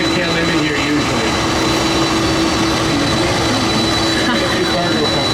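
A Lufthansa jet on the airside apron at Toronto Pearson airport, its engine producing a loud, continuous roaring whine with a steady tonal hum, filling the whole stretch at close range.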